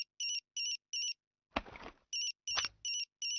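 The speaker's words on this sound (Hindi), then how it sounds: "आपका फोन बज रहा है दीदी।" A cartoon telephone ringtone repeats in quick bright double-tone bursts, interrupted by two short knocks or clatters in the middle, with no talking.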